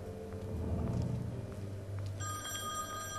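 A telephone rings inside The Wolf Among Us video game, a steady electronic bell tone running through the whole stretch over a low background hum, with a brighter ringing burst joining near the end.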